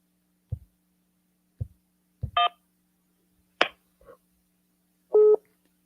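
Telephone keypad tones beep one at a time while dialing into voicemail, each followed by a sharp click, with silence between presses and no speech.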